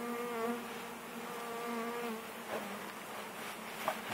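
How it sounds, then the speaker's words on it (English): Honey bees swarm in a dense, continuous buzz while a new colony is installed, the wingbeat drone steady and close, with a few brief louder passes near the end. "There's a lot of bees on this here."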